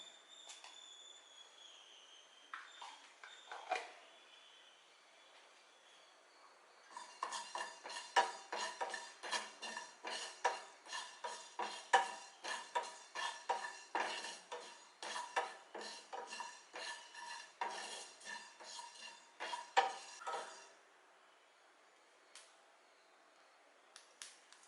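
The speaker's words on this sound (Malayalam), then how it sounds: "ഇനി നമുക്ക് ഒരു ടീസ്പൂൺ ഉലുവയും ഒന്ന് വറുത്ത് എടുക്കാം." A teaspoon of fenugreek seeds dry-roasted in a pan for cut mango pickle, stirred with a spoon: close, quick metallic scraping and clicking for about fourteen seconds between quieter stretches.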